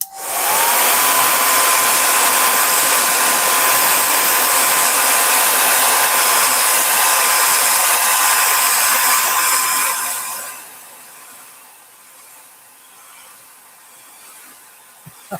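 A heat gun blows hot air, a loud, steady roaring whoosh with a thin whine that runs for about ten seconds before dropping to a much quieter fan drone as it powers down.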